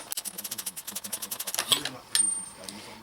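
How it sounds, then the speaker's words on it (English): A 22mm socket ratchets a fork top cap loose on a Honda VFR1200 motorcycle, a fast run of sharp even clicks, then a short metallic clatter and a brief squeal as the cap comes free. "now 22mm socket, and just unscrew the top cap"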